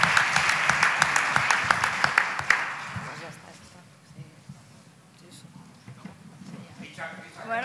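Audience applause at a trade union conference on union action and collective bargaining, a dense burst of clapping for about three seconds that then fades out, leaving a quieter room with low murmuring.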